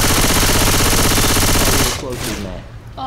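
Rapid automatic gunfire from Left 4 Dead 2 rattles loud and close for about two seconds, then breaks off into quieter clatter with a voice speaking over it.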